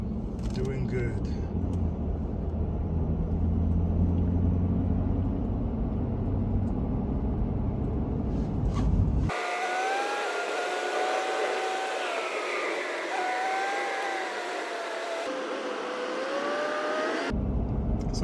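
A Super Duty pickup with no load drives a winter mountain canyon road in Colorado's Red Rocks area, giving a steady low engine and road rumble that drops to a quieter cabin hum while people talk.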